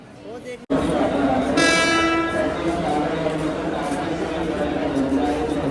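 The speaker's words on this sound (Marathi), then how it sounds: "ट्रेन आली." A train rolls into a station with a steady loud rumble and a brief horn-like tone, steady station noise continuing throughout.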